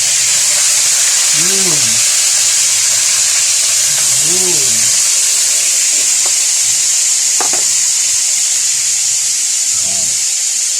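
Food fries in a pan with a steady, loud hiss and sizzle throughout, while a person talks quietly over it in a few short phrases.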